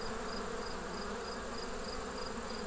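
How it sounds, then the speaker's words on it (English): Honeybees hum in a dense, continuous drone close by, a steady buzzing mass with no other sounds. "you've literally got bees just crawling all over the front of the hive"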